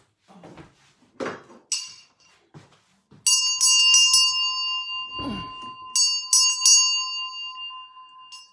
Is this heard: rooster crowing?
no